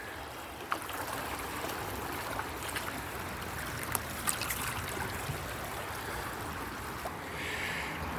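Creek water rushes steadily past a gold sluice, a constant close wash of splashing and gurgling flow with no break.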